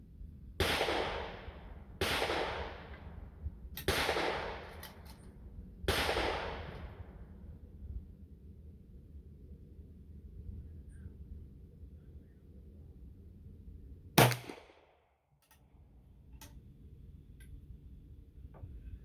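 Antique .44 single shot rifles over 145 years old fired outdoors, four loud booming shots at steady intervals with long decaying echoes, then a quiet pause and one more sharp report.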